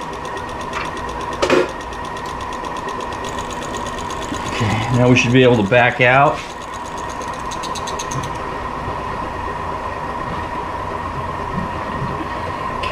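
A machine cutting new gear teeth on a Delta two-speed gearbox gear, a steady mechanical whine and hum with a brief rising burst of grinding midway, while someone speaks briefly.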